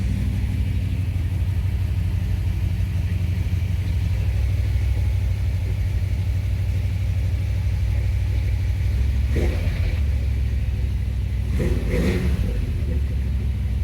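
A 1968 Ford Torino GT's 427 Side Oiler V8 with dual quads and a C6 automatic runs with a deep, steady rumbling idle, loud and close, with a couple of brief louder blips near the end.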